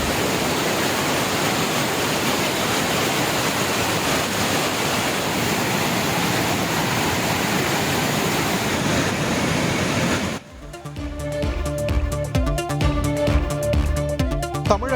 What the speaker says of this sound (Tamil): மேற்கு தொடர்ச்சி மலைப்பகுதிகளில் பெய்த கனமழையால் கும்பக்கரை அருவியில் வெள்ளப்பெருக்கு.